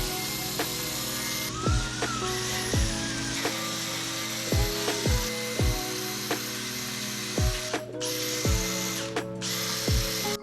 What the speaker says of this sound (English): I'm going to try to speed up the process with one of these real abrasive paint removing wheels